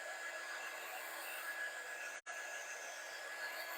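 A hair dryer blows steadily on paint on a cardinal painting, a close, even whoosh cut by one brief dropout before resuming, with no talking.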